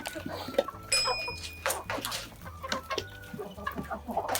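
Chickens of mixed breeds, including a yellowish hen, cluck repeatedly in a poultry yard, with a rooster's call and farmyard bustle mixed in at moderate distance.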